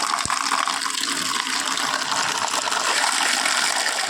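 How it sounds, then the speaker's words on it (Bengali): Drumstick and taro leaves washed by hand in water, a steady close splashing and running-water wash that continues without a break and without speech. "এটাকে ধুয়ে নিই ভালো করে"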